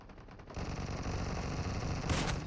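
Gunfire in the mobile shooter PUBG Mobile during an 8v8 match, rapid automatic bursts in a fast dense rhythm, loud and close, with a sharp burst near the end.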